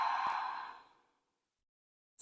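A single deep, breathy exhale during yoga, strong at first and fading away over about a second into silence, followed by a short rustle.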